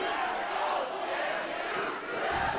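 A wrestling crowd roars and cheers steadily throughout, a dense wash of many voices at a pro wrestling event, loud and sustained without breaks.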